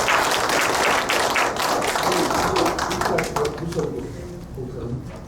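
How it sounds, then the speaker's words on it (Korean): An audience at a memory seminar applauds to welcome a guest director to the stage, dense clapping that gradually thins and fades, with a voice speaking over it. "여러분 힘찬 박수로 맞이해 주시기 바랍니다."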